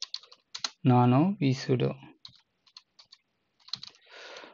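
Computer keyboard keys clicking in short bursts during an Arch Linux installation, close and moderately loud, alternating with someone talking over part of it.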